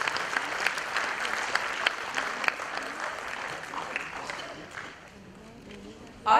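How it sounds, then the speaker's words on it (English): Audience applause at an award ceremony in Pune, a dense, lively clapping crowd that gradually thins and fades toward the end before a short louder burst. "I just would remind you to give a big clap to all our sponsors and all"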